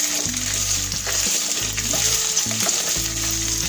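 Chicken starter pieces frying in a hot pan, a steady sizzle broken by repeated scraping and clattering as the pieces are stirred and turned, close and loud with no voices.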